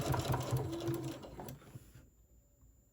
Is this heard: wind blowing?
no